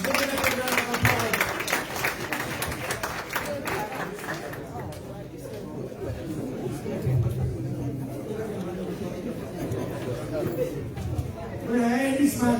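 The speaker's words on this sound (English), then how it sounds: "Give it up a round of applause." An audience at a fundraising event bursts into applause for a donation, with clapping and crowd chatter swelling at first, then settling into a general murmur that carries on to the end.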